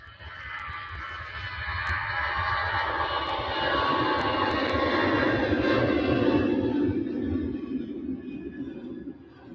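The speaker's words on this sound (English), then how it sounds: "Aer Lingus, off to Dublin." An Aer Lingus jet departing Manchester Airport for Dublin in thick fog gives a steady, loud engine roar that swells and holds through the middle before easing slightly, heard alone with no talk.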